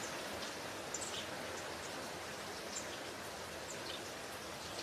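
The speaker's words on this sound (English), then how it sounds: "The rain is still very, very heavy." Heavy rain pours steadily during a sailing race for 18ft skiffs, a dense, unbroken hiss with faint chirps above it and no talking.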